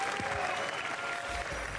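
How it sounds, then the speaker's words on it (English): A crowd applauds steadily, with dense clapping that continues at an even level throughout. "Give them a round of applause."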